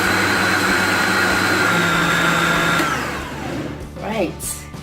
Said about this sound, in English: And just gonna blend that right